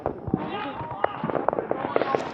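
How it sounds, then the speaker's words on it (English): Fourth of July fireworks going off, a scattered series of small pops and crackles at moderate distance, heard under people talking. "You can do your fireworks wherever you want."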